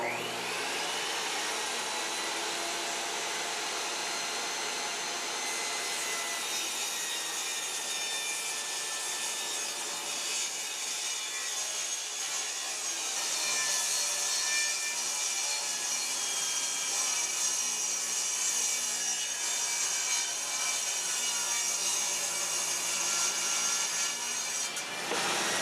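A handsaw cuts a piece of wood in half while a kitchen shelf is built, a continuous raspy rubbing that runs steadily and close for the whole stretch, alone without talk.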